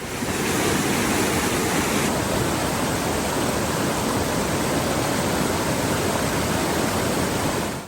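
Creek water rushing heavily after a flood, a loud, dense, continuous roar close to the microphone with no pauses and no voices.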